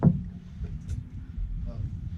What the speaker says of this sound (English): Is that the jet unit making that noise or the fucking engine?